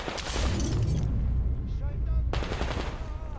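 Rapid bursts of gunfire in a Metro Exodus firefight, loud and close, with dense crackling shots and brief lulls while someone talks over the action.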